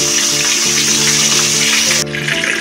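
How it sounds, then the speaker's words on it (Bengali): Onions frying with salt in a pan, giving a loud steady sizzle and hiss that cuts off sharply near the end, leaving a quieter sizzle with some low background hum. "এবার আমি এই পেঁয়াজগুলোকে একটুখানি ভেজে নেব"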